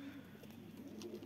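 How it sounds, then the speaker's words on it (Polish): A mourning dove coos softly at close range, a brief low hooting note over quiet background hiss. "żałobnik grucha"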